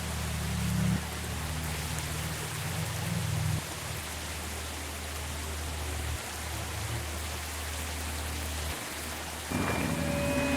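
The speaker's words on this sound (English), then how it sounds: "Now I'm at this rainy forest." Steady rain hisses through a forest in the video game Sally Face, a soft, even wash of noise under low ambient music tones, with no one talking.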